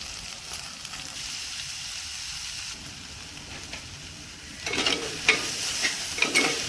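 Sliced onions added to a hot pan for a goat liver curry give a steady sizzle under stirring, growing louder and crackly in the last couple of seconds.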